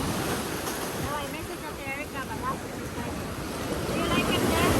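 Ocean waves crash and wash continuously on a beach, a broad steady roar with wind buffeting the microphone and a person's faint voice in the background.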